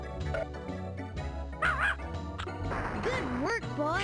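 A cartoon dog in the video game Putt-Putt Goes to the Moon barks and yips several times with whimpering, excited calls over background music and game voices.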